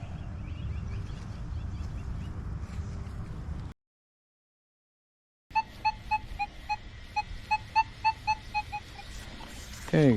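A metal detector gives a loud, screaming signal over a target suspected to be a toy car or aluminum, heard as a rapid series of sharp repeating beeps after a brief silence, with steady background noise.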